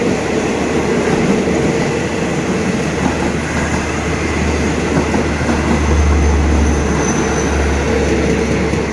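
A GEA class locomotive, number 4527, hauling Thai passenger train 45 past a rural home near Khu Bua, a loud, steady rumble of wheels on rails with a deep engine drone and no voices.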